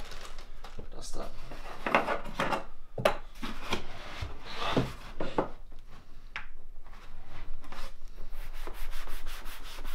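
Oil is rubbed by hand over a leather saddle seat in repeated rough strokes, a scratchy swishing that rises and falls irregularly, with someone talking over part of it.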